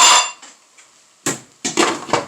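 Lid set down on a pot of simmering salami rice, a sharp metallic clank followed by a couple of quick rattling knocks as it settles, close and alone.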